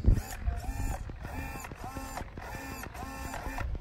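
Small servos on an E-Flite Habu 32 model jet drive the ailerons back and forth, giving repeated whirring buzzes in short bursts with brief pauses, close and fairly steady throughout.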